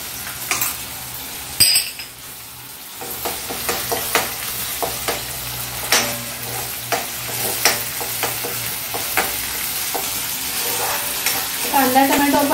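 Tomato paste and ginger garlic paste sizzle in a hot pan while a spoon stirs and scrapes in repeated strokes, with metallic clinks against the pan close by.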